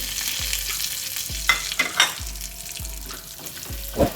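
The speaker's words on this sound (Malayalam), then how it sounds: "ഈ ചൂടായ നെയ്യിലോട്ട് 1 ടേബിൾ സ്പൂൺ എള്ളിട്ട് കൊടുത്തേ" Sesame seeds sizzle in hot ghee for a wheat ada, with a steady frying hiss and several sharp spoon scrapes and stirring clinks against the pan, loud and close, with no talking.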